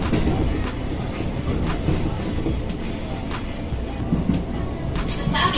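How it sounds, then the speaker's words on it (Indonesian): A passenger train approaching Jatinegara transit station on a Jakarta to Bandung line, heard from inside the car as a steady rumble with rhythmic clicks from the wheels. A brief hiss of air comes near the end. "Sesaat lagi kereta akan tiba di stasiun transit Jatinegara."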